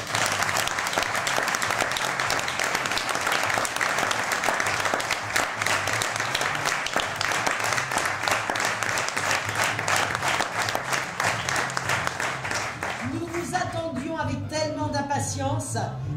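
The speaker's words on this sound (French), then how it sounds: "Merci d'applaudir tous les bénévoles." A French event audience claps loudly and continuously for the volunteers, a thick wall of applause that fades near the end as a voice begins speaking over the last claps.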